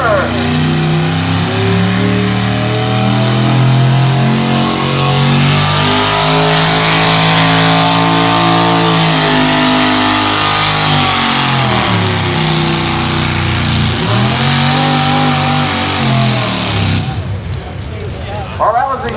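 A loud stock gasoline 4x4 pulling truck engine revs hard at a truck pull and climbs steadily in pitch for most of the run, then cuts off abruptly near the end, leaving a rattle.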